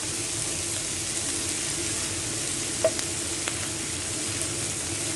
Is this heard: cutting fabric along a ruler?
no